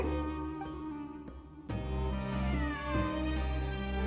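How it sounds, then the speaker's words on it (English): A cat meows repeatedly over a steady backdrop of Genshin Impact game music, the calls clear and close against the layered tones. "I'm not hearing things. It really is a cat."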